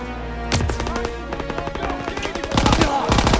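Rapid machine gun fire in Call of Duty WW2 comes in loud sustained bursts, growing denser toward the end, with game voices heard briefly.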